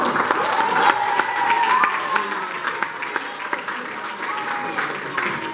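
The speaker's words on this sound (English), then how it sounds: "A big round of applause again for the second." Audience applause at a TEDx event, a full, sustained burst of many people clapping with a faint voice or tone running underneath, steady and moderately loud.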